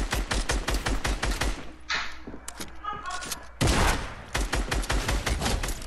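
Rapid bursts of automatic gunfire in the Fortnite video game, loud and close, with a short pause of scattered shots before another heavy barrage resumes.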